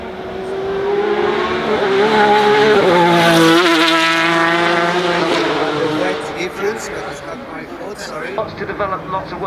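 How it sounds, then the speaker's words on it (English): Red Bull RB7 Formula 1 car driving up the hill at the Goodwood Festival of Speed, its high-pitched engine screaming as it passes close and then fading away, under a commentator's voice. "We've got the Red Bull RB7 here"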